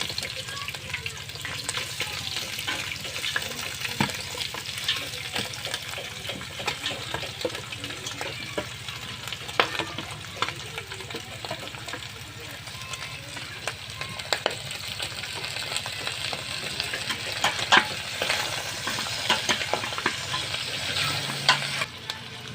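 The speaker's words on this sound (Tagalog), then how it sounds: "Igisa na natin." Chicken curry ingredients sizzle steadily while sautéing in a pan, with frequent stirring scrapes and clinks over the constant frying hiss, close and continuous for a long stretch.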